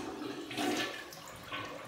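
A toilet in a dirty upstairs bathroom flushes, a short rushing swirl of water that swells and fades nearby with no speech.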